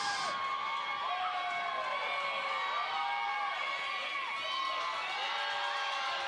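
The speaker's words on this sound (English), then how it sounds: "Crowd into it, wanting free swag" Arena crowd at an indoor soccer game in Danbury, cheering and shouting steadily with whoops and high children's voices throughout, a dense continuous roar without breaks.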